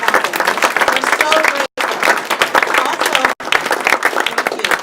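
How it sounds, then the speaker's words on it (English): Loud, dense applause from an audience at a dedication ceremony, many hands clapping continuously, briefly cut twice by short gaps, with voices mixed into the crowd noise. "Let's give a round of applause for every one of you and the people up here that made this happen"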